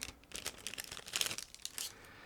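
Plastic bag around 1/48 scale Miniart P-47D-30RA Thunderbolt model kit canopy parts being cut and handled, with close, dry crinkling and rustling in short irregular bursts, some sharper tearing crackles, no talk.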